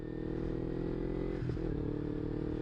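A Kawasaki Ninja 250R motorcycle engine runs steadily and loudly up close, with a brief shift in pitch midway as it moves through the gears, continuous and without talk.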